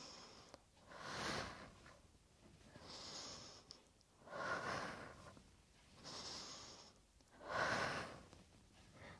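Breaths rush in and out during an oblique crunch exercise, four slow, audible exhalations spaced a couple of seconds apart, close and fairly quiet with faint breathy hiss between them.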